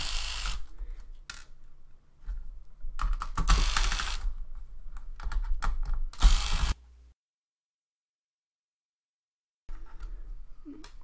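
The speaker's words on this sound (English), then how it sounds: "It's just coming off because I don't care." Screws being taken out of a Toshiba X200 laptop during a teardown, close ratcheting clicks and rattling metallic mechanism sounds in bursts, then a few seconds of silence before the clicking resumes.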